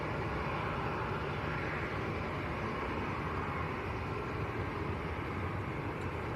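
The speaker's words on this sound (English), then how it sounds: "There's another Ryanair and a Jet 2 A321neo" Ryanair and Jet2 Airbus A321neo jets taxiing at Manchester Airport, heard as a faint, steady, distant engine rumble that holds without a break.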